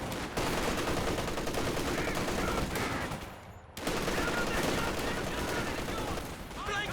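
Continuous dense machine gun and rifle fire in the real-time strategy game Company of Heroes 2, a loud sustained battlefield barrage with a brief lull midway before the shooting resumes at full intensity.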